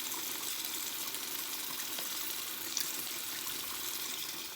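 Water runs steadily from a tap as a rubber AirPods cover is rinsed, a constant close hiss of flow with faint splashing and no talk.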